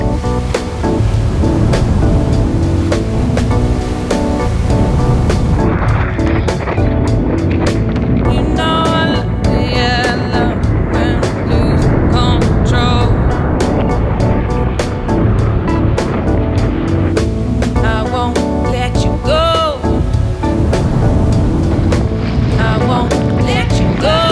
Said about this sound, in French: Les vagues, c'est géant, des tubes immenses